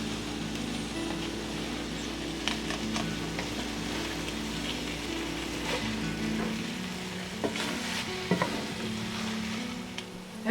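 A keto breakfast scramble cooks in a pan with a steady, close sizzle, broken by a few light scrapes and clinks from stirring; no voices.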